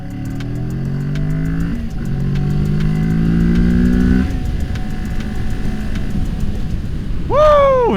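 A Kawasaki Z650 motorcycle engine climbs through the gears in rising harmonic sweeps with brief dips between shifts, ending in a sharp high rev blip, loud and close with steady road noise.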